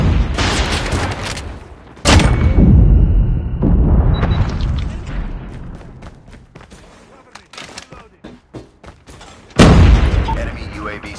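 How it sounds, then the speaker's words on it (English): A grenade goes off in Call of Duty Mobile, with heavy booming blasts and bursts of gunfire mixed into loud, close game action and several sharp, sudden impacts. "Grenade out."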